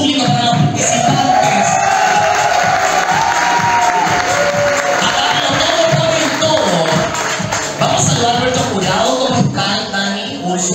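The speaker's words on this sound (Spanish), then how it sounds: "Que el aplauso más fuerte del público para los participantes." An audience at a televised talent contest cheers and applauds for the contestants, a dense continuous roar of clapping and shouting that stays loud throughout.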